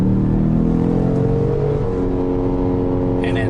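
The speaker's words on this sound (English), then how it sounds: "The revs go higher" A 2018 Ford Explorer Sport engine revs in sport mode from inside the cabin, a loud steady drone with harmonic tones climbing and shifting as it accelerates.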